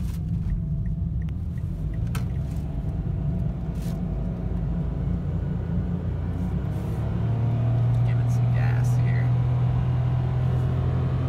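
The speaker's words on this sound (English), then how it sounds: "just gonna do a quick, acceleration video" Low engine rumble of a 2017 Mitsubishi Mirage G4 SE held steady, then rising into a stronger droning tone as the car accelerates, with occasional faint clicks.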